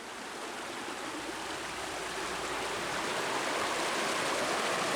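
Water of Looking Glass Creek near Brevard, North Carolina, flows in a steady, full rush that holds constant throughout, close and continuous with no voices.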